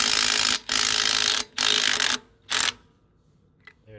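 DeWalt 1/4-inch impact driver running in reverse: three loud bursts of rapid hammering rattle, separated by short pauses, then quiet with faint handling noise.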